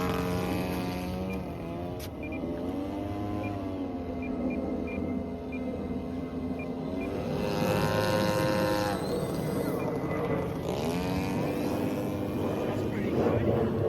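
A scratch-built RC T34A model airplane flies on its maiden flight, its motor giving a continuous whine that rises and falls in pitch as it turns and passes overhead.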